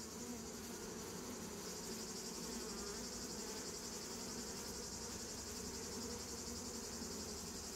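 Honeybees in traditional hives being gathered in autumn before rain give a steady, faint, continuous buzzing hum that holds evenly throughout with no talk.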